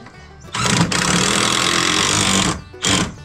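A cordless drill drives pocket hole screws into wood on a workshop processing station, with a loud steady whir of about two seconds followed by a short second burst after a brief pause.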